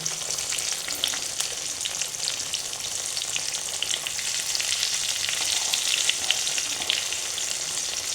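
Fish fry pieces coated in biscuit crumbs fry in hot oil, giving a steady, close, continuous sizzle and crackle that holds level throughout with no voices.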